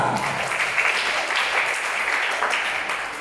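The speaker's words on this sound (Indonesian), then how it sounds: "tepuk tangan." A crowd at a youth gathering breaks into steady, dense applause that holds at an even level for a few seconds.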